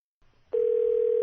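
A telephone line clicks faintly, then a steady single-pitch tone starts abruptly and holds, close and clear with no talk.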